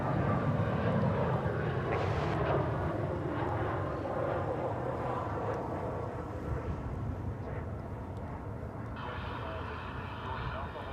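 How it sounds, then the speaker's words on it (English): An American Airlines Airbus A320 arriving from Monterrey, Mexico at Dallas/Fort Worth Airport produces a steady, broad jet roar that holds for several seconds and slowly eases, heard from a distance. "it's American Flight 1850 from Monterrey, Mexico. Flight 1850 and Airbus A320."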